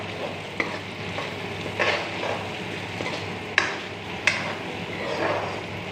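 Potatoes and lentils fry in a pan of oil while being stirred, giving a steady close sizzle broken by occasional sharp utensil scrapes and clinks against the pan, with no talking.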